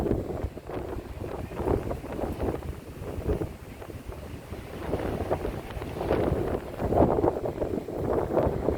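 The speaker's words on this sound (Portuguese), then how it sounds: "tem um chiado do vento aqui passando pela grade na cabeceira aqui do Salgado Filho" Strong wind hisses and rushes through a metal railing at the runway end of Salgado Filho airport in Porto Alegre, a steady broadband roar with repeated gusty surges, close to the microphone and with no voices.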